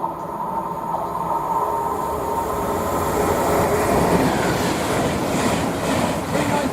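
A Class 390 train running from Birmingham New Street to London Euston passes close by at Watford Junction on the West Coast Main Line, with a loud rumbling rush and rhythmic wheel noise.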